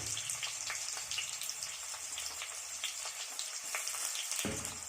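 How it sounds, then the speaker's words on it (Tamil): Large chopped onion frying in hot oil with whole spices for a vegetable kurma, a soft continuous crackling sizzle with scattered pops and a faint scrape near the end, no talking. "இது கூட ஒரு பெரிய சைஸ் வெங்காயம் போட்டு கட் பண்ணி வச்சுருக்கேன், அதை சேர்த்துக்கலாம்."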